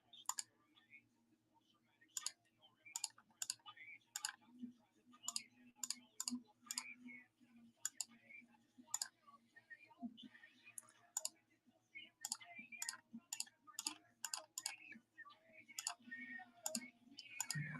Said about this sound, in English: I'm just clicking buttons